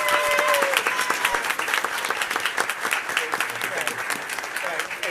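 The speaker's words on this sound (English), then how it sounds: "let's have one big round of applause for all of these students" Audience applause for fourth- and fifth-grade students at a school board meeting, many hands clapping steadily for several seconds at close range, with a few voices and cheers mixed in before the clapping slowly thins out.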